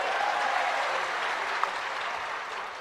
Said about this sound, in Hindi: जरा जोरदार तालियों से उनका स्वागत करो